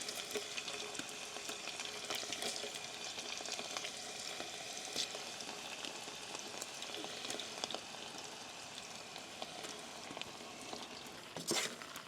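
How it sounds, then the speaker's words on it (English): Cubed bear backstrap fries in rendered bear fat at a backcountry camp, giving a faint, continuous crackling sizzle with scattered pops and a louder burst of spatter near the end. "So I'm just gonna drop the meat in there into the oil, and then we'll let her cook."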